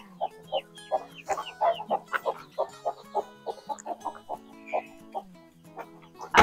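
Farm chickens cluck steadily in a close, busy stream of short, repeated clucks and calls, with no talking over them.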